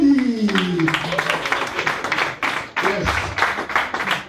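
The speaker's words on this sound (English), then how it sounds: "ladies and gentlemen, let's give it up for our speaker for tonight" Audience applause for a speaker at a Startup Grind Kigali event, a burst of clapping from a room full of people that builds and stays dense, with a voice speaking over the start.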